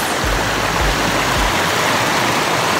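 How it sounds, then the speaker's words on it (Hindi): Natural water pours down from above in a Himalayan mountain village in Uttarakhand, a loud, steady splashing rush like a small waterfall, with a few low thumps at the start. "पता नहीं कहाँ ऊपर से ना पानी आ रहा है नेचुरल"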